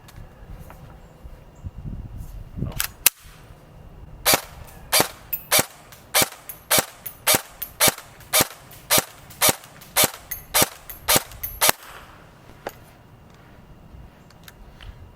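A Barra 400E Gen 2 electric BB gun fires full auto in a rapid string of about sixteen sharp, close cracks at a steady rhythm, preceded by a couple of isolated shots and handling noise.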